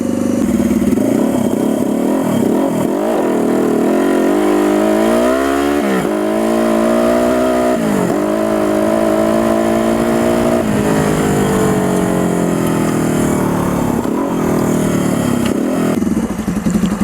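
A turbocharged GS400 scrambler motorcycle engine revs hard through a launch, loud and close, its pitch rising and falling across repeated throttle pulls with no talk over it.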